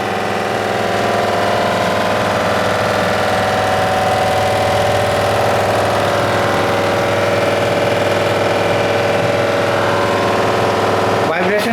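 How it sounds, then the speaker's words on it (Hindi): A kitchen chimney motor runs loud and steady with a strong vibrating hum, a continuous droning rumble that holds for the whole stretch close to the listener. "एक्चुअली ये मोटर से आ रहा होगा, मुझे जहाँ तक आइडिया है मोटर का साउंड होगा।"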